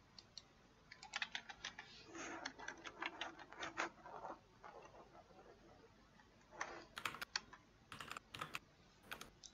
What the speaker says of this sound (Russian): Печатает что-то, блин, сидит.